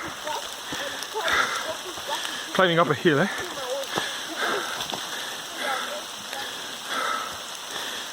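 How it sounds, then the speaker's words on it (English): Heavy rain falling steadily in the background, a constant hiss beneath someone talking close by. "you can't even tell, it's raining so hard"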